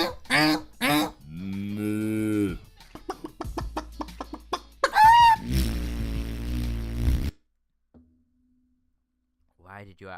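A man vocally imitates a chicken clucking in a quick run of short, choppy bursts, close and fairly loud, followed by a drawn-out squawk, then a pause before brief talk.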